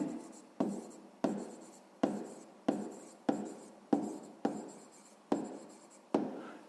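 Pen strokes writing numbers by hand on paper for a sixth-grade maths exercise, a steady series of about ten close, crisp scratching strokes in a regular rhythm, with no talk.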